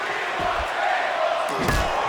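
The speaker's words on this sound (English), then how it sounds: "The crowd shouting for tables" Wrestling event crowd in an arena shouting and chanting for tables, a continuous loud roar of many voices with a couple of heavy thuds from the ring cutting through.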